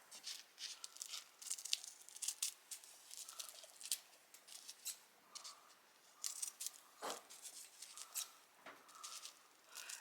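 Scissors snip through coffee paper filters in a string of short, crisp cuts with small rustles between them, close and fairly quiet.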